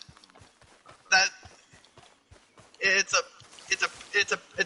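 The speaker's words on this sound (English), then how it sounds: "Do you see the horse freaking out?" A video game horse whinnies loudly several times amid rhythmic hoof clops, with people talking underneath.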